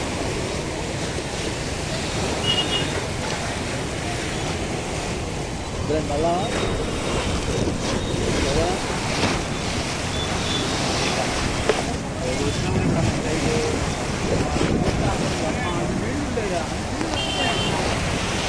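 Floodwater on the Krishna River rushes through fully opened dam gates, a steady, loud broadband roar with wind buffeting the microphone throughout as someone talks over it.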